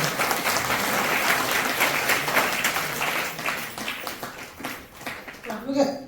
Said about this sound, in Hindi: अपने लिए जोरदार ताली लगाएं।